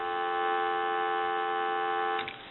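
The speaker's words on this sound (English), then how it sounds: "We'll go ahead and give you some dial tone." A steady, unbroken dial tone from a repaired 236G three-slot payphone hums for a couple of seconds before cutting off with a click at the end.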